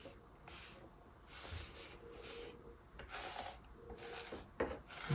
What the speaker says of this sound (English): You just kind of rub everything down in a nice smooth motion.